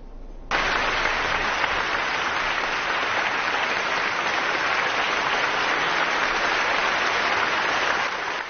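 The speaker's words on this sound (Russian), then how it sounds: "И эти аплодисменты – заслуженная награда за ежедневный многолетний труд" A concert hall audience at the Chopin International Piano Competition in Warsaw breaks into loud, dense applause after a piano performance, starting abruptly and holding steady with no break.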